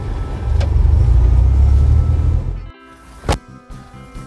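Honda Civic Ferio 2000 VTEC sedan cruising over a road with speed bumps: a steady, loud rumble of engine and road noise that abruptly drops away, followed by a quieter cabin with a sharp knock and faint hum.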